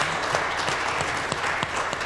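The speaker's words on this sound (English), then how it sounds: "Please give him a round of applause." Audience at a Muslim Student Association talk on the Israeli-Palestinian conflict applauding: dense, steady clapping from a sizable crowd filling a room, moderately loud, brief and without speech over it.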